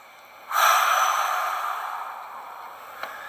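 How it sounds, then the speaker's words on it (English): A single deep breath taken during exercise, a close, breathy exhale that swells quickly and fades slowly, with no talking. "Take a deep breath."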